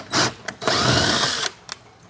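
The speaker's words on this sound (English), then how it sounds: "I'm gonna pre-drill the holes to make it easier to sink these lag bolts" A power drill with a 5/16 bit pre-drills holes for lag bolts during an off-grid inverter install, giving a short whir, then a sustained bite of nearly a second and brief trigger blips, loud and close.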